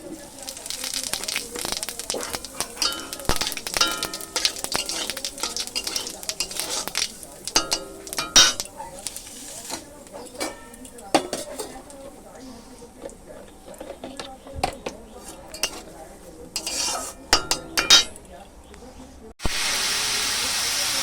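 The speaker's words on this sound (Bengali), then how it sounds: "কড়াইতে তেল গরম দিয়েছি এবার শুকনো লঙ্কা ফোড়ন দেব আর গোটা জিরে" Dry red chillies and whole cumin seeds hiss and crackle in hot oil in a kadai, with intermittent clinks of utensils against the pan and a louder burst of steady sizzling at the end.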